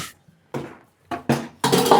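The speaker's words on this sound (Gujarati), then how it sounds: "હવે તવેથી હલાવવાનું છે" A spatula stirs and scrapes an adadiya mixture with plenty of ghee in a pan, giving several separate metallic scraping strokes with short pauses between them, close and fairly clear.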